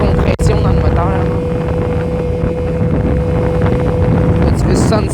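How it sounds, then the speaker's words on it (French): Scooter engine under heavy compression braking, a steady droning whine with a sustained tone and rumble, loud and close amid strong wind buffeting, the rider's voice briefly audible. "Il freine tellement que ça fait une compression dans le moteur"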